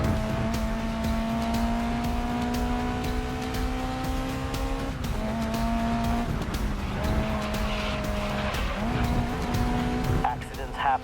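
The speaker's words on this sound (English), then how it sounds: "This right-hander is great to practice a power slide." Race car in the GRID Legends video game power sliding through a right-hand corner, a sustained high engine drone with shifting pitch and tire squeal, with a voice speaking over it.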